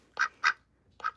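A pet duck gives three clear, nasal quacks, two in quick succession and one after a short pause, close by and otherwise quiet.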